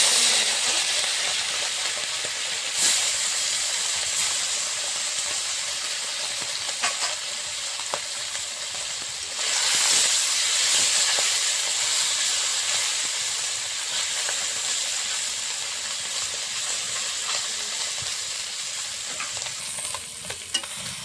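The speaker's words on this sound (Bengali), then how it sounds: "কড়াইতে সর্ষের তেল দিয়ে দিয়েছি মাছ ভাজার জন্য।" Small fish frying in mustard oil in a wok, a loud continuous sizzle and hiss with occasional sharper spits and bursts as the pieces cook, close up and without talk.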